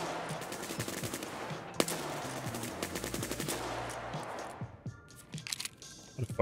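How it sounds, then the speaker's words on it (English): Steady crackle of gunfire in the video game Escape From Tarkov, dense rapid reports through most of the stretch, then sparser scattered shots as things quiet down. "we gotta go investigate those shots over there"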